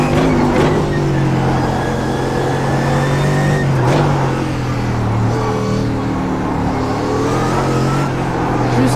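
A loud Mercedes-AMG GT3 race car engine in the iRacing sim drones at a high steady pitch on the Nordschleife, dipping and rising slightly as the car speeds along, with no pause throughout.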